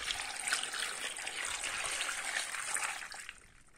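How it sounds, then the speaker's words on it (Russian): Water poured into a pot of cherry plums for jelly, a steady, fairly soft splashing trickle lasting a few seconds before tapering off. "На 6 килограмм алычи я наливаю 900 миллилитров воды и ставлю на огонь."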